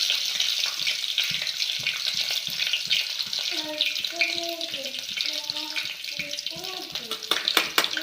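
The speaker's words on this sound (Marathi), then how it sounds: "पातेल्यामध्ये तेल टाकलंय तर लसूण पण टाकून घेते फोडणीसाठी" Garlic, cumin and mustard seeds crackle and sizzle in hot oil in a cooking pot for tempering, a close, steady frying hiss dotted with sharp pops. A voice talks over it partway through.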